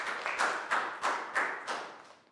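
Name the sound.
class applause for a pupil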